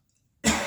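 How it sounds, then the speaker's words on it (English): One abrupt, harsh cough bursts out close by after a moment of near silence. "So I'm grateful that I coughed"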